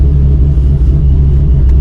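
A supercharged C6 Corvette idles while warming up, a loud, close, continuous low rumble with a steady throb and no revving.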